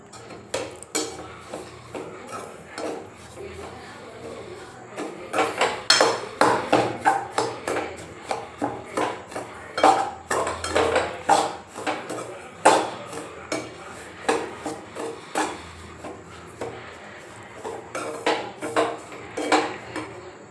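Repeated metallic scraping and clinking of a utensil against a pan as wheat semolina roasts in coconut oil, irregular stirring strokes continuing throughout at close range.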